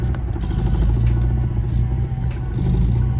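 A turbocharged pickup truck pulls away under acceleration, its engine droning loud and close with a steady rough rumble and faint fluttering chatter from the turbo as it revs, no voices.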